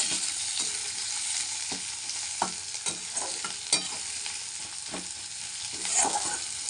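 Chicken pieces for chilli chicken fry in hot oil, giving a steady close sizzle with a few stirring clacks and scrapes spread through, and no talking.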